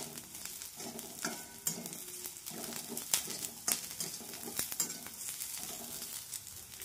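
Coconut and onion sizzling in a hot pan while being stirred, with a steady frying hiss broken by repeated scraping stirs and a few sharper clicks of the spoon against the pan, close and with no talking.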